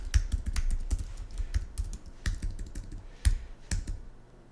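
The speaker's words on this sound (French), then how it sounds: "et je tape mon nom" A name is typed on a computer keyboard in irregular bursts of crisp, close keystrokes with short pauses between clusters, fairly quiet and with no talking.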